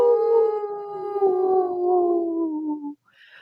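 A long, sustained wolf-like howl, loud and close, slowly falling in pitch before stopping abruptly, followed by a faint brief sound.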